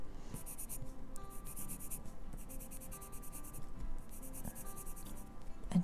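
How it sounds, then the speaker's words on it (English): Rapid, rhythmic scratching of a Holbein artist colored pencil being worked across paper. The scratching comes in close, steady bursts of strokes with short pauses between them. "I keep forgetting my pressure on this pencil"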